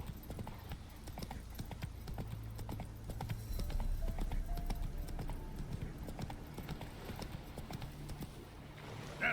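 Roach the horse trotting in The Witcher 3, a steady clip-clop of hooves on the ground that carries on throughout, with faint game ambience underneath.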